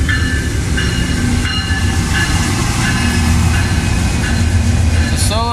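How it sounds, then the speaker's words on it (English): Empty sand train on the Norfolk Southern Harrisburg Division rolling past close by, loud continuous rumble with rhythmic clickety-clack of wheels over rail joints and a brief squeal near the end. "'61R empty sand train."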